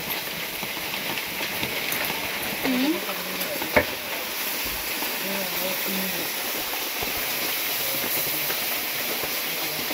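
Chicken pieces fry in a pan for a village-style curry, giving a steady, broad sizzle and hiss throughout. A sharp clack comes as the meat is stirred, and faint voices speak now and then under the frying.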